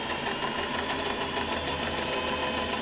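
Vintage Singer 500A sewing machine stitching shirting fabric, a continuous steady mechanical whir and rapid needle hum running close and unbroken throughout.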